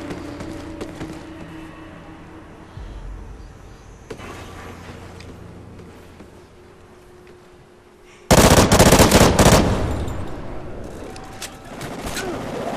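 Gunfire in a clan-versus-clan shooter match: faint background action first, then a sudden loud, rapid burst of automatic fire that tapers off but keeps going.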